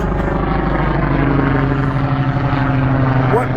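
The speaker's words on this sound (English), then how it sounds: "Wow, this is the helicopter." A helicopter passes overhead on a busy morning, its steady, loud rotor and engine drone filling the air with a continuous throbbing hum.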